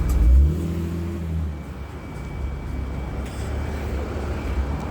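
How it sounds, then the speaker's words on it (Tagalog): Cars pass along a street near a petrol station abroad. One engine revs loudly up close at first, then traffic keeps up a steady whooshing hum. "Yan, may mga sasakyan guys."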